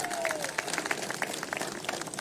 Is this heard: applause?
yes